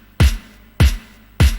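Three evenly spaced programmed drum hits from LMMS software, about 0.6 seconds apart, each with a sharp bright attack, a deep low thump and a quick decay, played alone and fairly loud.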